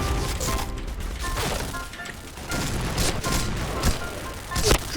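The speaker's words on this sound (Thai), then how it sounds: "ระเบิดระเบิดระเบิด" Grenade blasts and gunfire in the shooter video game Point Blank, several sharp bangs and booms scattered across a busy mix of mechanical clatter, loud and close.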